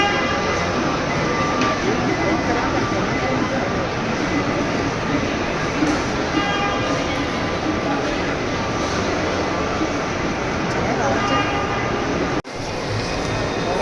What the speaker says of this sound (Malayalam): നമ്മളവിടെ മാത്രമല്ല, ഇവിടെ മെട്രോ ഉണ്ട്.